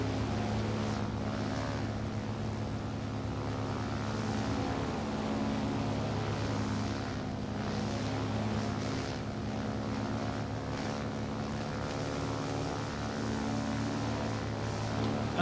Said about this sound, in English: So in the front, you kind of just hear the engine, but then if you rotate it to the rear, it sounds like it actually sounds like you're behind the plane